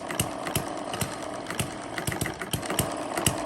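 A small model hit-and-miss engine runs on a mini homemade dynamometer, close and loud, with sharp irregular firing pops over a continuous mechanical clatter, without any talking.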